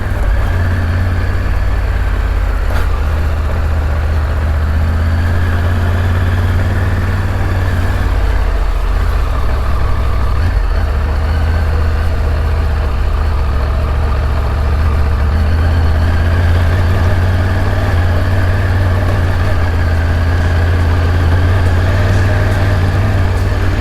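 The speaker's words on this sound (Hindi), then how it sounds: "सेकंड गियर पे मैं बाइक को चढ़ा रहा हूँ।" Motorcycle engine pulling steadily uphill in second gear on a rough off-road mountain track from Dharchula toward Gunji, a loud continuous low drone with wind noise, close and alone throughout.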